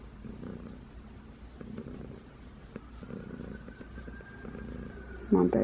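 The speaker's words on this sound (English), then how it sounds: "She's purring." A small, sweet female cat purring softly with a steady low rumble close by, underneath quiet talk, before a brief louder burst of voice near the end.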